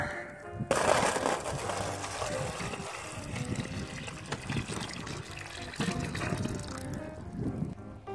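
Running water pours and splashes into a grill water pan on a Weber grill, a continuous gushing stream with occasional clunks and rattles.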